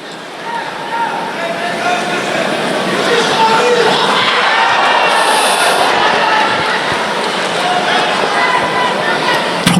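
Judo championship arena crowd roaring steadily in reaction to a throw attempt, a dense sustained swell of many voices that stays loud throughout, with speech mixed in over it.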